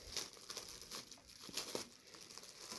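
Taped gift wrapping crinkles and rustles as a present is opened, in soft, close, uneven bursts of crumpling that stay fairly faint throughout.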